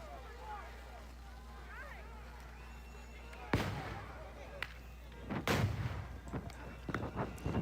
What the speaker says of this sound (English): They're firing tear gas, pepper balls, and the crowd is firing fireworks.